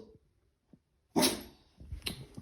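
A dog barking on command at home, one sharp close bark followed by a softer second bark after a short pause.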